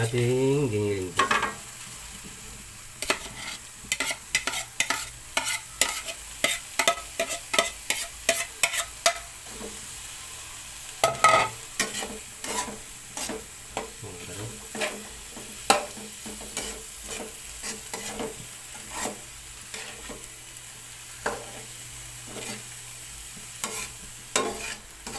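Ground pork sizzles in a hot pan while a utensil stirs and scrapes it in repeated sharp clatters, at first in quick bursts and then more sparsely over a constant frying hiss.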